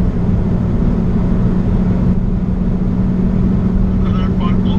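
A Cupra Formentor 1.5 TSI 150 hp DSG accelerating flat out in a performance test, with a loud, continuous engine drone heard from inside the cabin and a brief voice near the end.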